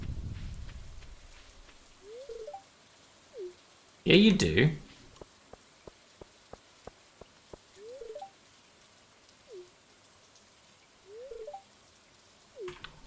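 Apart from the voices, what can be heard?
raindrops on metal trailer roof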